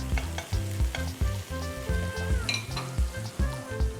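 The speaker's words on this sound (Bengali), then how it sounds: "আবার আমি এই চিকেনটা দিয়ে দিলাম।" Chicken frying and sizzling in a pan for black pepper chicken fried rice, with a steady loud sizzle broken by rhythmic stirring and scraping about twice a second, close up and without talk.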